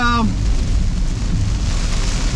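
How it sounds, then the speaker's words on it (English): Heavy rain and wind drum on a car driving through a tropical downpour in Thailand, a loud, steady wash of noise with a low rumble throughout, after a brief tonal sound at the start. "it's raining pretty heavily right now"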